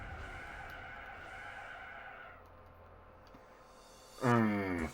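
Hard braking in a Daihatsu Copen in Gran Turismo 4: a steady engine drone drops away, then a loud burst of sliding tire squeal rises sharply near the end and holds.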